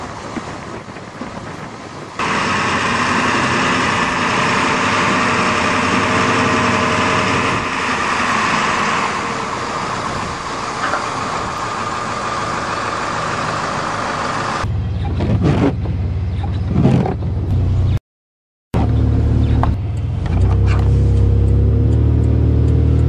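A 1996 school bus engine runs steadily with a loud, continuous drone and heavy wind buffeting, then rough bursts of low rumble, a short cutout and renewed engine noise as the bus drives.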